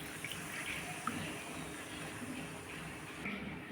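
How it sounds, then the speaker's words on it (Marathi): Water is poured into a pan of roasted mixed-lentil sandge in a home kitchen, a faint, steady splashing hiss that runs for several seconds with a few soft clinks. "आता थोडंसं पाणी घालून घ्यायचं आहे आपल्याला"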